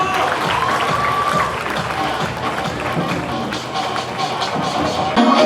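A festival audience at an inter-college youth event claps and cheers for the finalists, a loud, dense wash of crowd noise with voices mixed in.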